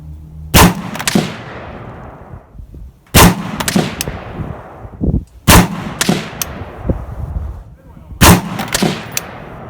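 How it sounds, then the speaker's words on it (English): A PSA Palmetto State Armory 10.5-inch AR pistol fired at a 50-yard range, four loud, sharp reports spaced a couple of seconds apart, each with a short echoing tail and a faint metallic clink after. "what we're going to do here is just shoot a couple quick 5-shot groups at 50 yards"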